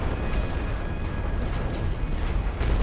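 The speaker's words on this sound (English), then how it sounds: "I'm going to hit this area with heavy artillery" A heavy artillery strike in The Great War: Western Front rolls on as a sustained low rumble of overlapping distant explosions, loud and unbroken for a few seconds.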